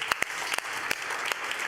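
A round of applause from the audience at a scientific general assembly, with a few sharp, distinct claps standing out over a softer bed of scattered clapping at moderate distance.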